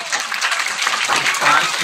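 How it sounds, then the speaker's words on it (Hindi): Audience clapping steadily and close by, a dense burst of hands that runs through the whole short moment without pause. "ताली बजाओ।"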